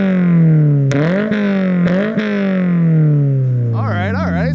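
Loud revving from a 2022 Subaru BRZ with a Tomei titanium catback exhaust, two quick blips rising and falling over a steady drone that slowly drops off, with a voice breaking in near the end.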